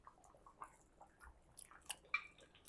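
Someone tastes a spoonful of feijoada, giving faint, close, wet chewing and small squishy bites in a quiet room, with a few sharper clicks near the end.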